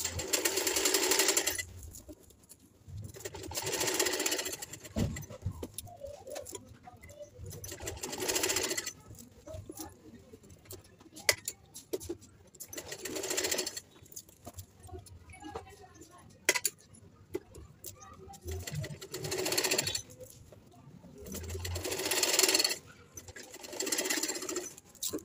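Domestic sewing machine stitching a suit, running in repeated loud bursts of rapid motor whirring separated by short pauses, with small clinks and handling noises between runs.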